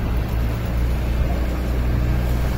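A Yamaha NMAX V2 scooter running on a stand during a speed sensor test, a steady low engine drone with an even hum, close and continuous with no talk.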